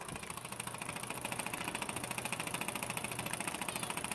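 A small horizontal DIY oscillating steam engine, or wobbler, running steadily, with a fast, even chuffing pulse and metallic ticking that stays constant throughout with no voices.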